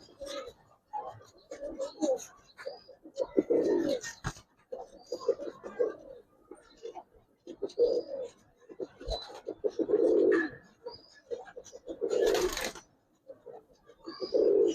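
Pigeons coo in a loft, with repeated soft, throaty calls from several birds in an irregular rhythm, close by, joined by a few higher chirps and wing or shuffling noises.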